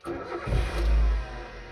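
A car engine starts with a brief crank and catches into a loud, rough idle that swells and then settles, sounding noticeably noisier than normal, as if something is off in the engine.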